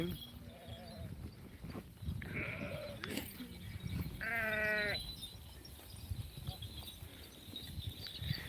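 Several goats and sheep bleat in short bursts at moderate distance, with quieter rustling and outdoor background between calls.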